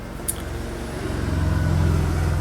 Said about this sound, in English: just wait for some of this traffic noise to go past